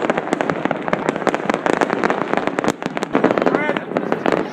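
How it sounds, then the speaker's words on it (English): New Year's Eve fireworks in Naples crackle and bang from every direction in a dense, continuous barrage of sharp reports, with people talking and exclaiming close by. "this is like it's a sea of fireworks"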